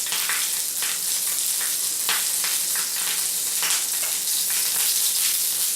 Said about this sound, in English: in that coconut oil, I'm going to be throwing in some green chili